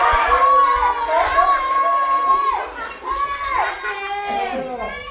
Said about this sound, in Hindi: अबे कितना चिल्लाते हो बे।